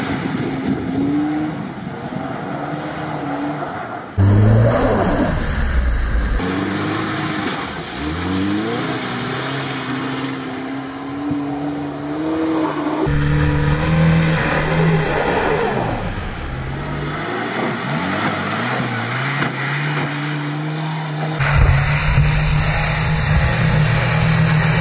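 A car with a 1.8 engine on Cordiant Off Road tyres drives on a winter track, its engine loud and close, revving and surging through several accelerations with shifting pitch and no talk.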